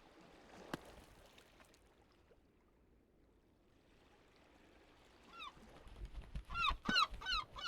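Honking game birds in Peaks of Yore, a few loud calls clustered near the end after a quiet stretch of ambient background.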